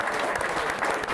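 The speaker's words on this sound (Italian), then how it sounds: "Applauso per il giro andata allora." Brief, dense burst of crowd applause in a football-themed gathering, loud and continuous for about a second with no voices standing out.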